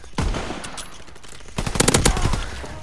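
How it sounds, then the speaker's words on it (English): Automatic pistol fire in the shooter Call of Duty: WWII: a single loud shot, a short pause, then a rapid close burst of several cracking rounds in quick succession. "not too bad with this automatic pistol here"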